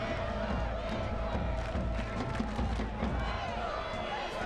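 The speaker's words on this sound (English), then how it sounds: "Crowd here at City Stadium trying to encourage their Richmond Kickers on." Stadium crowd at City Stadium, Richmond, cheering on the Richmond Kickers during a soccer match against Forward Madison FC, a steady distant roar of voices and shouts with an announcer talking over it.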